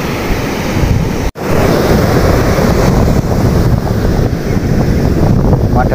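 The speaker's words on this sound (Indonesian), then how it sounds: "Anginnya udah mulai muncul" Strong wind blowing across a sandy beach at Bugel and Bidara near Yogyakarta during shore fishing, a loud continuous roar with surf in it, broken by a brief dropout and with faint voices underneath.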